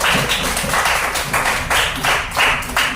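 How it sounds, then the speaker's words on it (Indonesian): A classroom group applauds together in a steady, rhythmic clap pattern, about two beats per second, loud and close, with no talking over it. "Tepuk tangan untuk kita semua."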